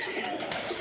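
A king pigeon sitting on a clutch of eggs gives a brief, soft coo, faint and close, with no other sounds around it.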